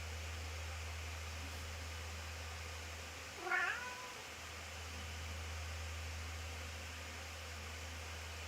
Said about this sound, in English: The one you're hearing mewing, that is Sue.